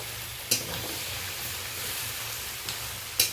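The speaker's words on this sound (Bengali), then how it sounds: "এবার খুন্তির সাহায্যে এটা ভালো করে আমি মিশিয়ে নেব" A spatula stirs kulekhara greens cooked with crab, eggplant and potato in a hot pan, giving a steady oily sizzle broken by three sharp scrapes against the metal.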